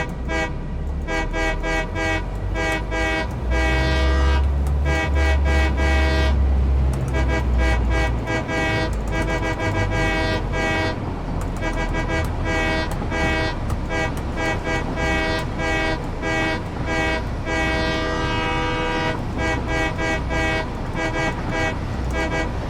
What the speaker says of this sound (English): train horns are supposed to wake you up